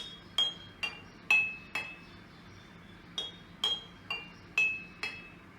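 Spoons of plastic, metal and wood tap water-filled glasses set up as a water xylophone, giving eight clear ringing clinks in uneven pairs, each with a short bright ringing tail, fairly quiet and alone.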